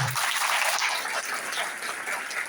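Students in a lecture hall clap together, a dense, steady patter of applause that lasts the whole moment and then eases slightly.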